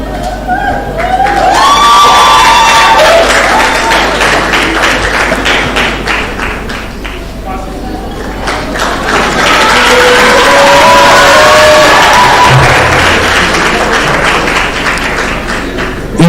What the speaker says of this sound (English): It was your applause that made me to look to this side